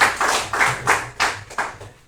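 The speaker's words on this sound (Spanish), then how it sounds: "Dale un fuerte aplauso al Señor" Several sharp hand claps ring out from a church congregation during a Spanish-language sermon, about six bursts in a loose, uneven rhythm, fairly close and loud with no talk over them.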